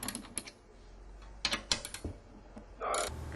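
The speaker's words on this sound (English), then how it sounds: "and ratchet them down" A ratchet tightens the lug bolts that hold a VSAT dish mounting bracket. It makes quick clicking bursts, some sharp and separate, and ends in a longer grinding run, all close and moderately loud.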